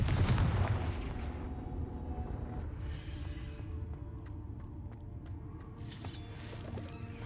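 Confringo fire spell blasts in Hogwarts Legacy sound as a burst of deep rumbling impact that fades into a lingering low roar, with faint sharp crackles near the end.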